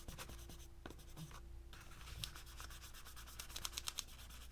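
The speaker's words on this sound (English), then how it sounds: "I just take a kneaded eraser and I'll just erase my lines that I did first time with the pencil" A kneaded eraser rubs over pencil lines on watercolor paper, a quiet, close scratchy scrubbing with quick back-and-forth strokes, steady throughout.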